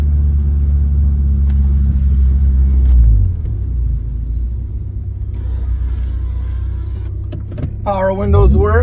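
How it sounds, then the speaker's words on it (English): Interior of a 1994 Honda Prelude with a steady engine rumble while driving, a power window motor whirring briefly near the end, heard close inside the cabin. "Power windows work."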